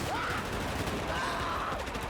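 Gunfire in Battlefield 4, a faint, steady wash of distant rattling shots running through the whole moment under a busy game mix.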